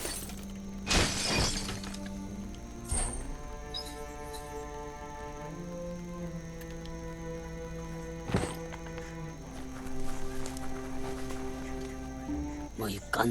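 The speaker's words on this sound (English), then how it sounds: "You shouldn't worry about smashing up the box." In the video game Biomutant, a box is smashed with a sharp shattering crack, followed by another crash later, while a voice talks and tonal game music plays underneath.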